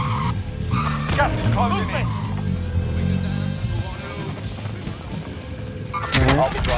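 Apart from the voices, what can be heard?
vehicle being driven in video game Call of Duty: Modern Warfare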